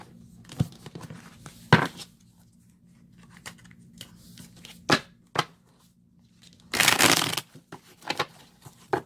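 Tarot cards being shuffled and handled during a reading, heard as scattered crisp card slaps and riffles, with a longer dense burst of shuffling near the end and quieter rustles in between.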